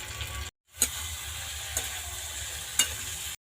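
Fried potatoes stir-fried with spice masala in a pan, a steady close sizzle with a few sharp spatula knocks, broken by brief silent cuts near the start and end.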